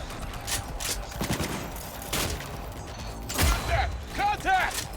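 Gunfire in the shooter game Cyberpunk 2077, bursts of shots scattered across the moment, mixed with mechanical clanks and game effects, while voices shout in the background.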